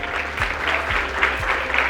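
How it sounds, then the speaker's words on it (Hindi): Students at a result celebration for entrance exam toppers give their parents loud, sustained applause, a dense crowd of clapping filling the room throughout. "एंड जोरदार तालियां अपने पेरेंट्स के लिए."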